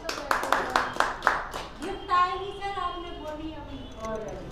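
A burst of several quick, sharp hand claps from students in an SSC exam coaching classroom, fairly loud, followed by a teacher speaking.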